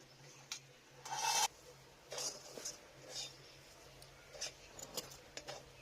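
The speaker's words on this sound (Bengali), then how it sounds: "একটু তেল বুলিয়ে দিলাম এই থালাটার মধ্যে" Soft, brief rubbing and rasping as oil is wiped across a plate while cooking a vegetarian bottle gourd dhoka dalna, with one louder scrape near the start and then scattered quiet strokes.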